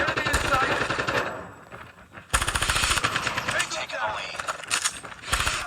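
Switchblade SMG from Call of Duty Mobile firing long rapid bursts in a game, loud and close with short gaps between strings, while a player talks over the shooting.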